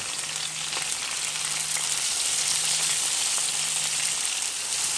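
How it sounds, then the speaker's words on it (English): Diced tomatoes and sauce ingredients fry in hot oil for a Guyanese stewed red snapper, giving a steady, dense sizzle that holds at an even level throughout with no voices. "And you want to mix and allow it to fry in the oil and to create a nice thick sauce."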